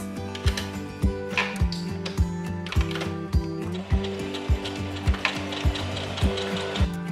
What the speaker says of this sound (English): and now I'm just going to stitch it up.